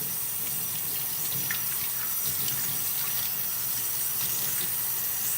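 A running tap pours steadily at a sink while hair is rinsed out, a constant close hiss of flowing water with no pauses.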